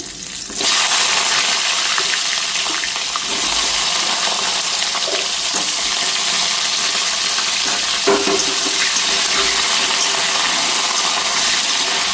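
Potatoes and pointed gourd hitting hot oil in a pan, with a loud, continuous close-up sizzle that starts abruptly and holds steady throughout, with occasional faint clinks and no voices.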